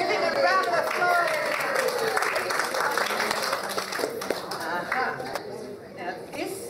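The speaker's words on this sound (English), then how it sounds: "Give him a round of applause." Warm audience applause with some cheering at a film festival gala, a continuous wash of clapping that gradually fades, voices audible over it.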